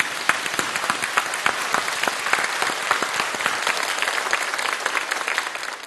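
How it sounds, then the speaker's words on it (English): Studio audience applauding an Australian guest panel on a televised China-Australia relations discussion program, loud sustained clapping with crisp individual claps standing out through the dense, even wash. "A big applause to the guest team, our Australian panel, please."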